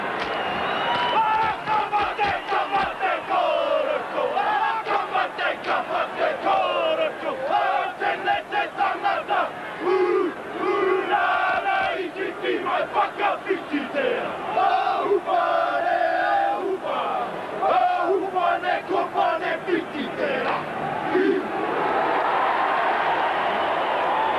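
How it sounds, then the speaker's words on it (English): New Zealand Kiwis rugby league team performing the haka before the 1991 test against Australia, rhythmic chanted war cries and stamping in a steady pulse, loud and close over a large crowd's roar. "The famous haka about to be performed."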